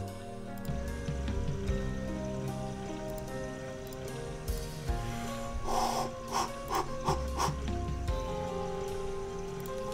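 Running water in the game Tiny Room Stories, a quiet patter of drips and trickling beneath steady background music, growing busier with a cluster of splashy bursts midway.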